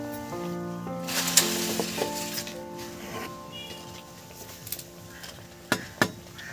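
Battered eggplant fritters (beguni) fry in a pan, a quiet steady sizzle broken by occasional light clinks and scrapes of a utensil.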